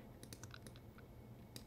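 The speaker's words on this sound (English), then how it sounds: "Hit U on our keyboard" Keys pressed on a computer keyboard during After Effects work: a handful of light, crisp clicks in an irregular cluster, then a pause and one more tap, close and quiet over faint room hiss.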